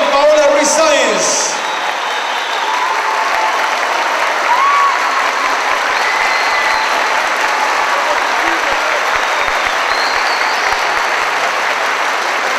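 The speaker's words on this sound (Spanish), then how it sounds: "El segundo aplauso, segundo y último aplauso para la candidata del barrio Cumbe Mayo," A carnival pageant crowd applauds a neighborhood candidate with loud, sustained clapping and cheering, a brief whistle or voice at the start over the steady roar of hands.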